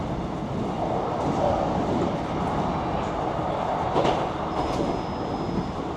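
Passenger train running fast down the line past Entwistle toward Bromley Cross, heard from inside as a steady loud rumble with faint rail clatter and a brief high squeal.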